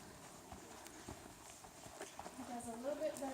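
A horse at a therapeutic riding center walks with faint, irregular hoof clops, heard at a distance under a soft background hum, while people talk nearby.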